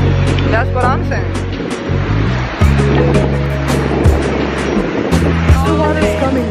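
Ocean waves rush and wash up on a beach in a continuous loud roar, with wind noise, while people talk over it.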